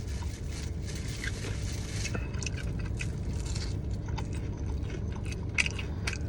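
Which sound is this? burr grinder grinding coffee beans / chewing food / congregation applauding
chewing food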